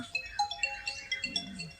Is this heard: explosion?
no